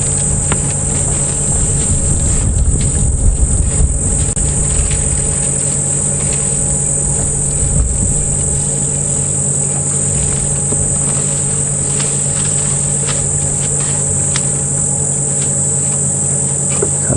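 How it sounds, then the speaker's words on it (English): Cicadas calling around an open safari vehicle at dawn on a game reserve, a dense continuous high buzzing drone filling the air, with low engine rumble beneath and faint bird calls. "sure you can hear the cicadas going"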